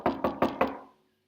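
Four quick, evenly spaced knocks on a door, solid and fairly close, with the last one ringing out briefly before silence.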